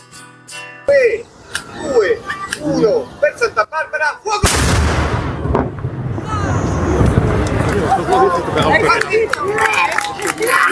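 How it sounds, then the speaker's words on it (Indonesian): A single deafening blast from a monster cannon fired at noon, in use since 1847, booms midway, followed by a rumbling echo and a noisy crowd, with scattered voices and wind before it. "Penggunaan meriam sejak tahun 1847 ini menandakan waktu memasuki tengah hari."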